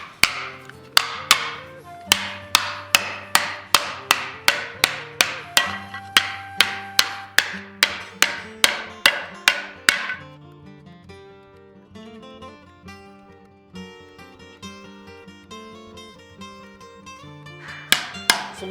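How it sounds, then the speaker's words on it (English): Soft aluminum sheet being dished with a hammer into a wooden stump: a rapid series of sharp metallic blows, then a pause with ringing, and a few more strikes at the end. "I will just dish that out into the wooden stump."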